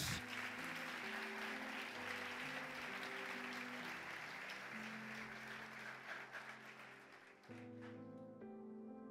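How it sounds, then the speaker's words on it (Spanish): A church congregation claps loudly and continuously for Jesus during a service, the thick wash of applause running over sustained music that carries on as the clapping thins near the end. "Denle un aplauso fuerte a Jesús."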